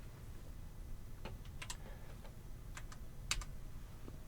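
Quiet computer keyboard typing, with sparse, irregular key clicks in short bursts over a faint background hum and no speech.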